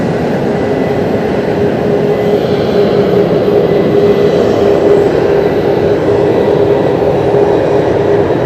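A Skymark Boeing 737 MAX at Fukuoka airport gives a steady, loud jet roar with a faint whining tone running through it, continuous for the whole stretch with no voices.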